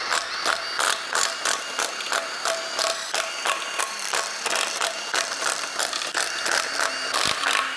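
A ratchet clicks rapidly and continuously while loosening the oil pan bolts on a B58 engine from a crashed GR Supra, its sharp, close ticking running in quick repeated strokes with no talking.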